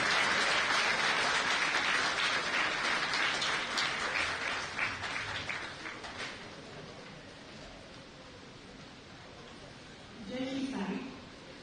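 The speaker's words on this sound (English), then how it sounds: "A huge round of applause for the Kerala." Audience applause at a Kerala release ceremony for a Malayalam translation of Shri Guru Bhagwat, a dense crowd clapping that swells loudly, gradually fades over several seconds, then picks up briefly again near the end.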